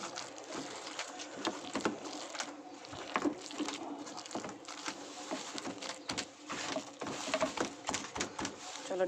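Soaked lentil paste mixed with tomato and chopped coriander is beaten by hand for fritters, making close, irregular wet slapping and patting that repeats briskly throughout.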